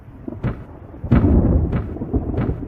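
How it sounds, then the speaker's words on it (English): Deep thunder rumbles and rolls continuously in a storm with lightning and pouring rain, several sharper cracks breaking through the heavy low roar. "There was thunder and lightning, and the rain poured down in torrents."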